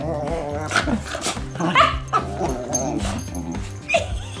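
Excited puppies yip, whimper and bark in quick bursts, close by, with people talking over them.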